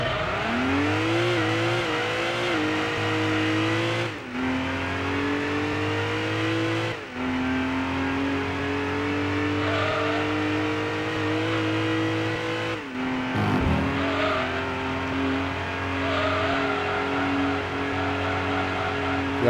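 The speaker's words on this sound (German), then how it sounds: "Jetzt machen wir zuerst eine Testfahrt, um zu schauen, ob das Auto wirklich gut ist" Racing car engine from the Gran Turismo 2 video game during a test drive: a loud, steady engine tone that climbs through the revs, with brief drops at gear shifts and a short tire squeal near the end.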